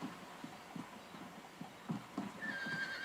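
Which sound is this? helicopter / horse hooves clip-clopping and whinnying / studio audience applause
horse hooves clip-clopping and whinnying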